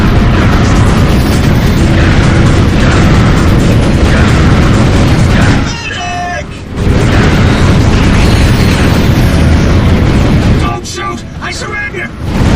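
Loud, sustained booming blasts roll on almost continuously as a turret fires on enemy ships in the Ratchet & Clank game, with brief dips between bursts and voices shouting over the din.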